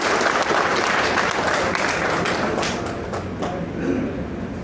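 Audience applause at a Bharatiya Janata Party political rally, a dense sustained burst of many hands clapping that fills the space and fades slightly toward the end.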